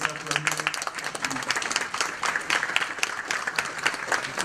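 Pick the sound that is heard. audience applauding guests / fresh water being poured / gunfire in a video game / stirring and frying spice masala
audience applauding guests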